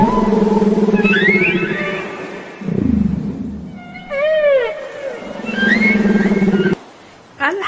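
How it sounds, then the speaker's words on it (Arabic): A whale's loud, tonal moans and rising and falling whistle-like sweeps come in several distinct phrases, with a short break near the end. "حوت."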